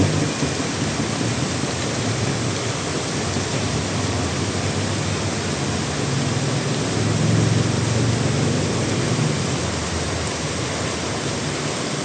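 Heavy rain pours in a dense, unbroken hiss on a street with quickly flooding pavement, with a low rumble swelling briefly partway through like distant thunder.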